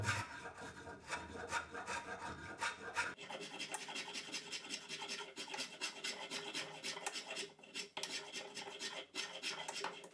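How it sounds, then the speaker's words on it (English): Hand sanding with 100 grit sandpaper on the wooden handle of an old sledgehammer: a close, continuous dry rasping and scraping, with a quick stroke rhythm that changes partway through and carries on steadily, with no talking. "And finish with 100 grit sandpaper."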